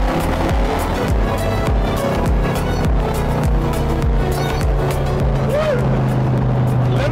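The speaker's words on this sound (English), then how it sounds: "You can feel the car's got a very big cam. So that's why it's stuttering like that." A car engine with a very big cam idles and stutters at low revs, a loud, lumpy, uneven rhythmic chug close by, with a person talking over it.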